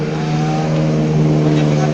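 A Yamaha New Vixion motorcycle fitted with a B Pro exhaust revs at close range, giving a loud, steady, buzzing engine drone that holds a firm pitch throughout.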